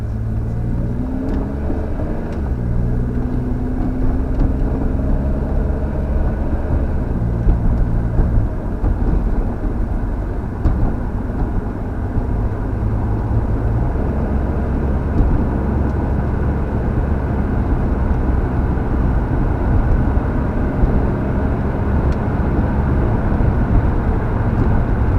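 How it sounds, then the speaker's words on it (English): A Pontiac G6 pulls away in a slow, gradual run from 0 to 60, its engine droning steadily for the whole stretch. The pitch shifts gently as it builds speed, and the interior stays loud with no speech. "It's just going to be a gradual 0 to 60."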